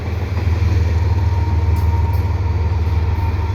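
CN mixed freight train with an ES44 locomotive passing close by at St John's Blvd, a loud steady low rumble of rolling cars and diesel drone filling the whole stretch.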